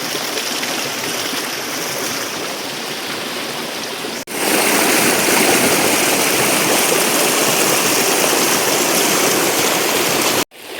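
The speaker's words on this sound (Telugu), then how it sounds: "వాటర్ కొంచెం బాగా ఫ్లో ఉంది" A fast-flowing forest stream at Mamandur waterfalls rushes loudly and steadily close by, with two brief cuts where the roar drops out and returns even stronger.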